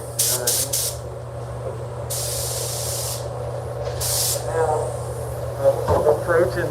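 Spray gun laying down a blending coat of gray metallic paint on a Honda hood, heard as several short hissing bursts followed by longer sustained sprays, close and loud over a steady compressor hum.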